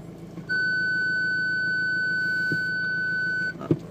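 A car's Parktronic parking sensor sounds a single continuous electronic tone for about three seconds after reverse gear is engaged, steady and clear over a low engine hum, ending with a brief clunk.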